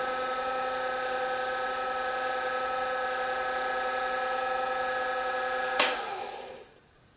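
Turned bottle stopper spinning on a wood lathe mandrel while buffed with white Scotch-Brite: a steady high whine of the running lathe, a brief scrape near the end, then the motor winding down.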